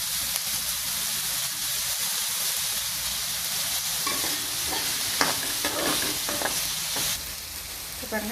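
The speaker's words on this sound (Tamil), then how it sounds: "வெங்காயத்தை நல்லா வதக்கி விட்டுக்கோங்க. இதிலே ஒரு இனுக்கு கருவேப்பிலையும் போட்டு சேர்த்து வதக்கிக்கலாம்." Onions and curry leaves sauté in a pan with a constant loud sizzle and hiss, joined midway by scattered scraping strokes of a spoon stirring the mixture.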